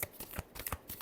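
A deck of tarot cards is shuffled in a brief flurry of soft, rapid flicks and taps, quiet and close.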